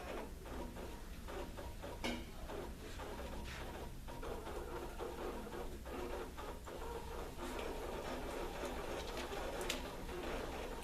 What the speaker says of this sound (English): Each of my voting units is now printing something called a zero totals report